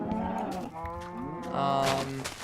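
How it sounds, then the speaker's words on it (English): Cows in the Minecraft video game moo in a couple of drawn-out, fairly loud calls, one after another, with no talking. "Yeah, so I'm gonna feed these cows."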